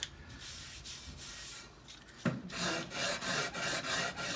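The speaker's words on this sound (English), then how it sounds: "at the end, you'll have to hand sand it with different finer grits, medium and fine grits." Pine wood rubbed by hand with fine grit sandpaper gives a steady, close rasping of repeated strokes, quieter at first and then louder and more rhythmic.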